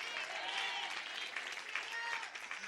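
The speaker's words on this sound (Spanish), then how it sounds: "Dele fuerte ese aplauso al Señor." A church congregation claps for the Lord, brief sustained applause from a crowd mixed with cheering and shouting voices.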